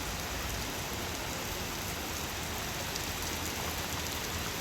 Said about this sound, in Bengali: রৌদ্রের ভিতরে বৃষ্টি শুরু হয়ে গেছে।